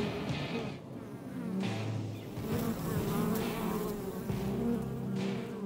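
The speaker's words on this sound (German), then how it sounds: "Biene, geh. Bitte." A bee buzzes close by for several seconds outdoors at a food stand, its droning hum rising and falling as it circles near the listener.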